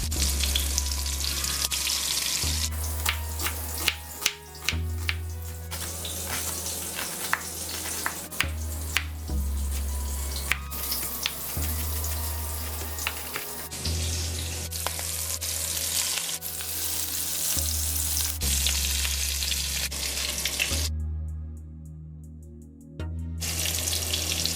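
Food fries in a pan over medium heat with a steady close sizzle and occasional stirring knocks, while background music plays and cuts out briefly near the end.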